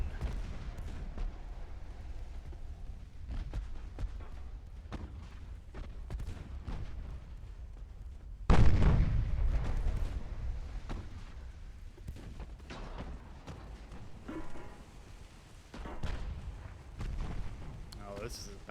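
Naval guns firing in Ultimate Admiral Dreadnoughts, with scattered distant booms, one heavy deep blast midway, and a steady low rumble throughout.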